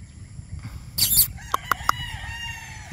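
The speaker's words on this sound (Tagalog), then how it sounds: "Medyo madami nang tumitilaok" Roosters at a chicken farm crow faintly in the distance, with a few short sharp calls over quiet background noise and no voices.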